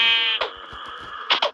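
In the video game Minecraft, a sheep gives a short, nasal bleat up close, then brief soft game thuds follow, ending in two quick higher bleat-like bursts.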